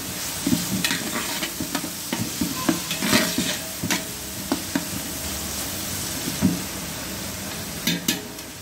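Ginger garlic paste frying in a pan while being stirred, a steady sizzle with repeated scraping strokes of the spoon against the pan, close and fairly loud, no talking.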